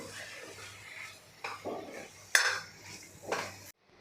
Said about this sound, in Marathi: हा पालकसुद्धा वाटणामध्ये आपल्याला परतून घ्यायचा आहे